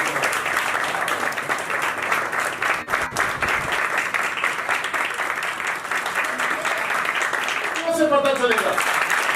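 A church congregation in Lahore applauds its Sunday school children, sustained dense clapping filling the room for several seconds, with a brief lull before it resumes and a voice talking over the end.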